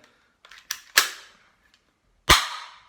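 A C7 Glock-style pistol replica is dry-fired indoors, giving a few light mechanical clicks and then two sharp, loud snaps about a second apart, each with a short ringing decay in a quiet room.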